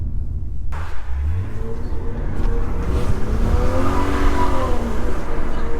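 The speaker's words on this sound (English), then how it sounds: "Oh wow, the revs are higher now." A 1988 Toyota Supra engine revs and accelerates hard, a loud, close rumbling roar with rising pitch sweeps as it climbs through the gears, heard alone with no talk.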